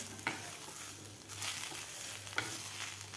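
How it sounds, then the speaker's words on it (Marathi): Gram leaf bhaji being stirred with salt in a pan, a steady soft sizzle with a few scraping strokes of the spatula against the metal, close and continuous, no talking. "मीठ घातल्यानंतर व्यवस्थित आपल्याला ही भाजी मिक्स करून घ्यायची आहे"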